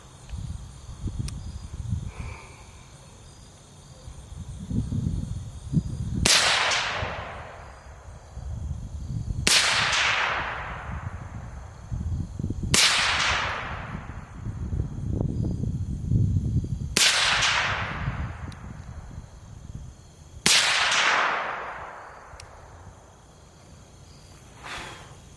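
Five suppressed 5.56 rifle shots from a 16-inch barrel fitted with an Energetic Arms Vox S suppressor, each a sharp crack with a short decaying tail, spaced roughly three to four seconds apart outdoors.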